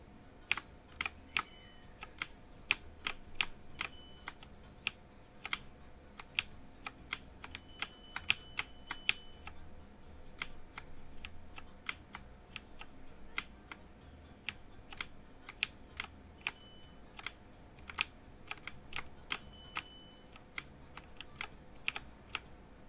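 Clicky keystrokes on a computer keyboard, irregular bursts of close, crisp taps over a quiet game background, some quick runs and pauses, no voices.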